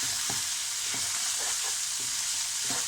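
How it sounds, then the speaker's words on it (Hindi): Beef mince (keema) with spices fries steadily in a pan, a dense continuous sizzle with soft spoon clicks and stirs every half second or so, close and alone. "भुनाई की आवाज़ें आ रही हैं इसमें"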